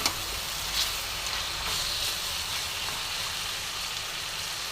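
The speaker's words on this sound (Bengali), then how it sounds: "এটা আমি এইভাবে আবার কিছুক্ষণ ভাজবো।" Chicken fries in a pan with a steady, even sizzle and crackle that holds at a constant level, close and uninterrupted.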